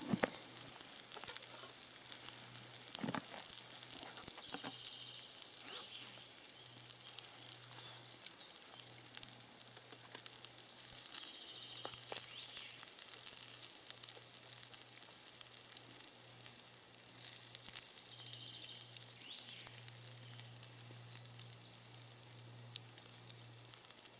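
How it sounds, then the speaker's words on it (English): Steady crackling sizzle of sausages and onions frying in a pan outdoors in the woods, continuous and close, with occasional faint clinks and a low hum underneath. "Sizzling sausages and frying onions."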